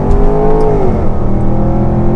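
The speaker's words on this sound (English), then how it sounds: "Would you hear that exhaust? One of the most beautiful exhausts." A Range Rover Sport Supercharged engine revs hard and continuously at speed, a deep rumbling exhaust note with rising and falling pitch, close and unbroken.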